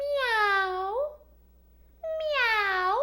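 A human voice imitates a cat with two long, drawn-out, high meows separated by a short pause, sung clearly and close up in a playful tone.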